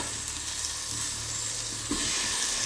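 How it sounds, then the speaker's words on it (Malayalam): Soybeans are stirred into onion and tomato frying in a pan, a steady close sizzle with a brief scrape of the spoon near the end. "ഇനി നമുക്ക് സോയാബീൻ ചേർത്ത് കൊടുക്കാം."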